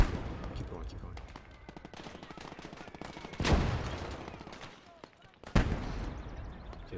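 Gunfire in the World War Two game Gates of Hell: Ostfront, a steady run of rapid distant shots broken by two louder close blasts, with a voice talking over the battle.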